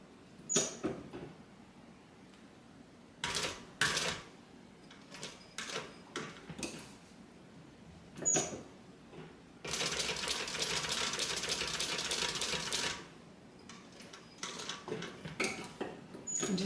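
A hand-cranked sewing machine stitches an AllyBee bag in slow, short bursts of clicking and whirring, with a longer steady run in the middle and a run of brief taps near the end. It sounds close and moderately loud.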